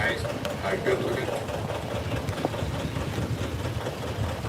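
A restored antique tractor, the first hand-built prototype M, runs at a low steady idle outdoors at a tractor parade, its dull engine rumble continuous and fairly near under crowd murmur.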